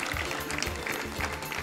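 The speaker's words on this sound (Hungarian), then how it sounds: "Úgyhogy tapsoljuk meg a lányokat" Audience applause for the contestants at the Magyarok Világszépe 2019 beauty pageant final and crowning ceremony: a dense, steady wash of many hands clapping, filling the whole moment.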